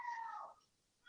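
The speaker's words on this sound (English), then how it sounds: "Is it someone with a cat?" A cat yowls loudly in the background in a drawn-out wail that fades after about half a second, then starts again at the end, with no talk over it.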